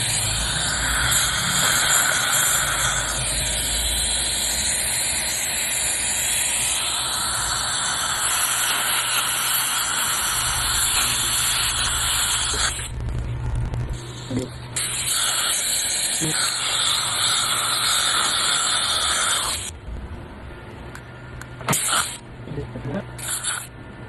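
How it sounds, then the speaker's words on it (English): A spray can hisses steadily during dental repair work, long continuous hiss bursts with brief pauses, close and loud, while people talk over it. "What's the stuff in the spray can you were doing?"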